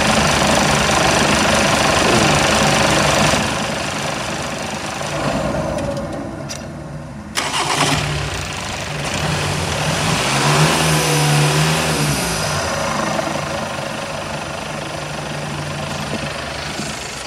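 A 2.0 TDI diesel engine with over 600,000 km runs with a loud, rough idle, then revs up and settles again, with a steady mechanical clatter throughout.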